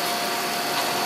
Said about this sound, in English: what we're doing right now is boring the holes out